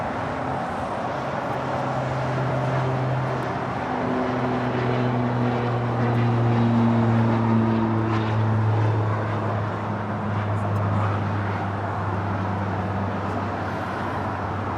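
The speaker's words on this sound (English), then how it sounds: "This is Pilatus PC-12." A Pilatus PC-12 single-engine turboprop drones steadily at an airport, its propeller hum holding a constant pitch throughout with a low, continuous tone and no talk.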